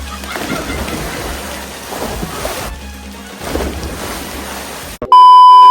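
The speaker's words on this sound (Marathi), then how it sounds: "त्याच्या आधी पाऊस बघा" Heavy rain pours steadily with a dense, rushing hiss and low rumbling, loud and close, before cutting off abruptly near the end.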